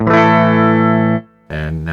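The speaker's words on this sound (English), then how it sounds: "First, we'll hear just the amp." A sustained electric guitar chord played straight through the amp with no pedal rings clean and full for over a second, cuts off, then a second strummed chord starts after a brief silence.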